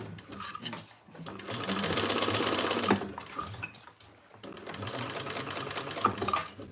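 A freshly oiled home sewing machine runs in two short bursts of rapid, rattling stitching, close and fairly loud, with a brief pause between them.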